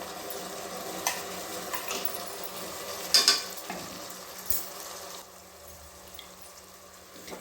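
Ground masala paste goes into onions frying in a pan for a vegetable pulao, giving a steady close sizzle with stirring scrapes and a sharp clatter partway through that fades to a quieter hiss. No one speaks.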